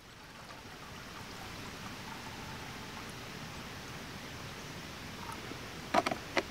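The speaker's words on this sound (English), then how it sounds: "inside this pot, I'm gonna add some water. This is just regular drinking water." Drinking water pours steadily into a camping stove pot, a continuous splashing trickle that runs for several seconds, followed by a few sharp clinks near the end.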